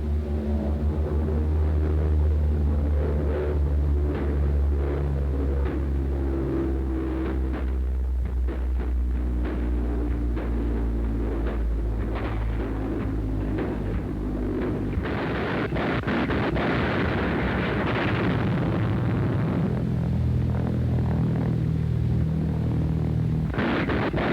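A WWII flying bomb droning steadily overhead as anti-aircraft guns fire and explosions burst in 1944, with a constant engine pulse that gives way to loud, crackling blasts and rumbling detonations, rough and distorted like an old newsreel recording.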